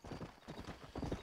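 Horse hooves clip-clop in a steady run of close, loud footfalls in the video game Red Dead Redemption, with faint talk barely present underneath.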